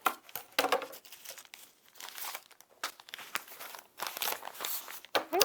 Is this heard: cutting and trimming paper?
yes